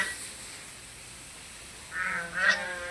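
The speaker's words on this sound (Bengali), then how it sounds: "ওখানে হাঁস চড়ে বেড়াচ্ছে" A few quacking calls from ducks, moderately close, arriving in two short bursts near the end after a quiet stretch.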